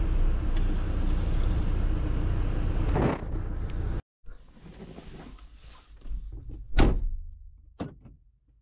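A car engine runs steadily with wind noise on an early morning, then cuts out; after a short silence come shuffling movements and two sharp door thunks, the second a solid slam, close to the microphone.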